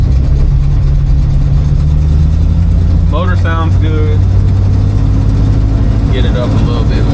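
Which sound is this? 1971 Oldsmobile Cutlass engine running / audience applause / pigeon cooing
1971 Oldsmobile Cutlass engine running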